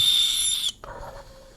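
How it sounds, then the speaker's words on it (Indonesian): An owl gives a single bright, sustained call of under a second, heard close and alone, then cuts off into a faint lower tone and near silence. "burung hantu gue"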